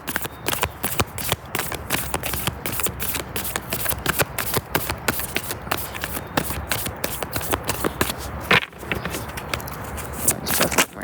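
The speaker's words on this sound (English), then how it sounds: "Let's shuffle one more time." Tarot cards are shuffled repeatedly at close range, a rapid series of crisp riffling bursts and flicks in a steady rhythm.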